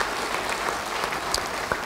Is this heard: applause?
yes